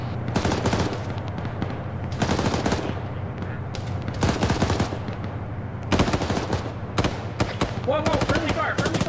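Rapid bursts of automatic gunfire from ArmA 3, machine-gun fire and scattered shots clustering in repeated volleys over a steady low rumble, loud and continuous, with faint voice chatter mixed in.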